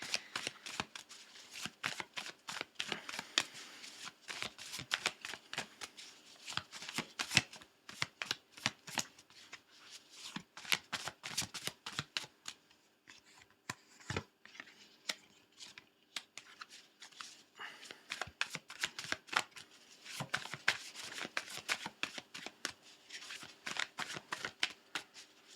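Prophet cards for a card reading are shuffled in a steady stream of quick, crisp riffling flicks. The sound is close and soft, with brief pauses, and no one speaks.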